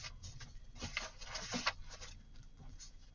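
A small home printer printing ephemera sheets, heard quietly as soft rhythmic ticking and patter with brief mechanical bursts.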